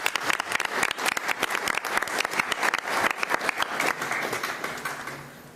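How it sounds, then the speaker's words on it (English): Audience clapping at a school board meeting, a brisk round of applause from a modest room crowd with distinct individual claps that taper off toward the end. "How about a round of applause for some amazing..."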